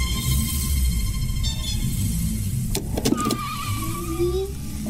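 A car engine idles in a garage while warming up, a low steady rumble running throughout, with a brief clatter partway through and a thin whine near the end.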